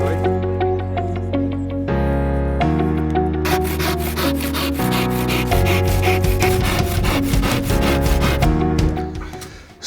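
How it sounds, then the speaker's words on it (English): A handsaw cuts acoustic plasterboard for party-wall soundproofing, its rasping strokes coming in a quick, steady rhythm over a loud bed of tonal music, close and continuous until fading at the end. "we're going to cut the first plasterboard here"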